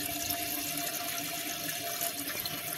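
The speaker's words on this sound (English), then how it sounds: "now let's go ahead and flush the toilet" A toilet tank refills after a flush, giving a steady hiss and rush of running water throughout, close and even, with no talk.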